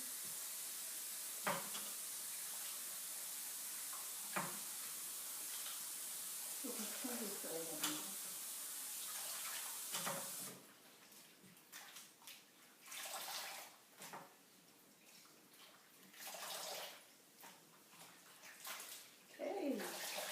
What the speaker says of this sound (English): So we're gonna rinse it a little bit, and then we're gonna drain it.